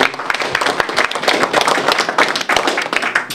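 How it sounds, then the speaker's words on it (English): An audience applauds in a conference hall, dense and loud clapping from many hands continuing steadily without pause. "I think we should applaud him for this"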